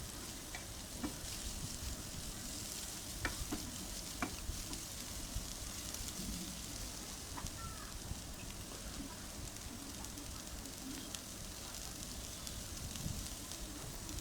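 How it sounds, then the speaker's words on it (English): Broad beans fry in hot oil while being stirred, a dense steady sizzle with scattered scraping clicks from the spoon throughout. "Stir it well in the oil at least 1 to 2 minutes."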